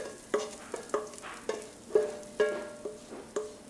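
Batter for honey cornbread sizzles in a cast iron skillet. Rhythmic scraping strokes, about eight of them, sound over a faint sizzle, close and fairly quiet with no talking.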